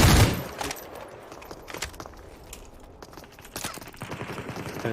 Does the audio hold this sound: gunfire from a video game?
yes